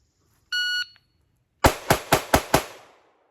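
Five rapid pistol shots from an Arc Division Reactor 19 with ported barrel and slide, fired quickly at five yards, ring out sharp and loud after a short electronic timer beep.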